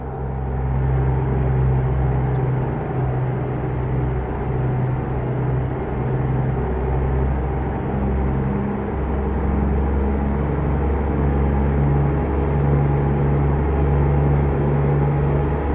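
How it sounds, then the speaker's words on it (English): A heavy truck engine drones steadily with a deep, continuous rumble, loud and close, with no pauses or speech. "I love the way this truck sounds."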